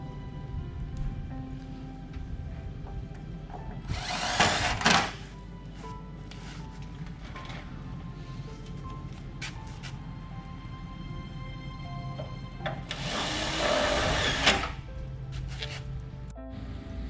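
A drill whines in two separate short bursts, driving screws into the hinge of a pool enclosure screen door, with quiet tapping and handling noises in between.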